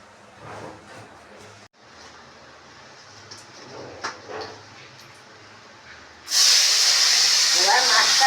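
Koi fish fry lightly in oil in a pan. After quiet speech and small kitchen noises, the fish hits the hot oil and a sudden loud, hissing sizzle fills the last two seconds.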